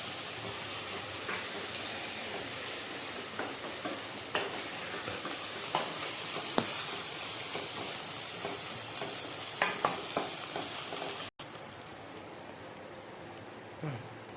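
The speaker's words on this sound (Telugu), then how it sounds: "పసుపు పచ్చివాసన పోయేలాగా కలుపుకోండి" Masala with garlic paste and turmeric frying in a pan, a continuous hissing sizzle broken by light scraping stirs and occasional taps, with no voices.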